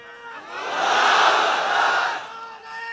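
A crowd shouts a takbir chant of Allahu Akbar together, many voices rising into one loud, sustained, close cry that swells and then fades.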